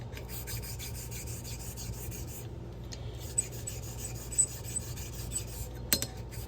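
A straight razor strokes across a Shapton 1.5 sharpening stone to set a small back bevel, giving soft, faint, steady scraping with a short pause midway and a few light taps.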